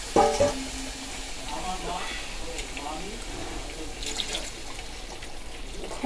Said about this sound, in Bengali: এবার জল দিয়ে দেওয়া হচ্ছে, গরম জল, কারণ মাংস পুরো সেদ্ধ হয়েই গেছে।